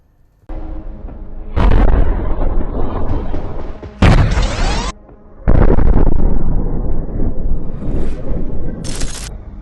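Gunfire and explosions from an intense Al-Quds Brigade military operation in Gaza: loud, heavy booms and bursts come in several separate blasts at close range, with ragged rumbling between them and no voices.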